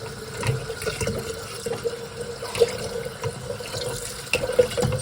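Cold water runs steadily from a tap into a container of sugar syrup for feeding honeybees, a continuous close splashing with small gurgles.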